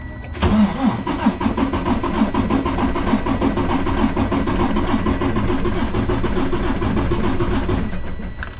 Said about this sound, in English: Click on OK, and we're gonna go ahead and crank it